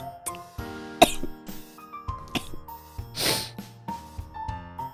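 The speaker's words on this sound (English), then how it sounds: "I'm coughing so much." Several rough coughs and throat-clearing sounds from a sick person spread across the clip, close and moderately loud, with breathy gasps between them.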